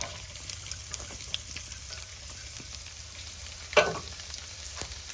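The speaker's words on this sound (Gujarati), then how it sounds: "લસણની કળી જો આપણી સરસ મજાની 6-7 કળી છે કાપેલી છે, નાખી દેવાની છે" Six or seven chopped garlic cloves fry in hot oil with asafoetida and cumin, giving a steady, soft sizzle throughout with light stirring ticks and one brief louder clink near the end.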